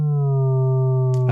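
Arturia Synclavier-V software synthesizer playing a steady, basic square-like tone: a loud sustained note with strong harmonics, held alone without a break for just over a second.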